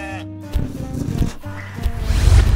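Sheep bleating at a farm, a few close bleats broken by rustling and shuffling noises.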